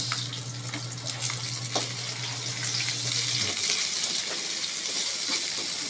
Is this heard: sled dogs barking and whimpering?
no